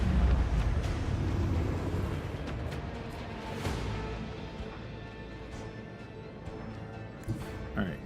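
Starship salvo striking torpedoes in the Rogue Trader video game: a heavy, rumbling burst of explosions that rolls on and slowly fades, with a couple of sharper impacts near the end.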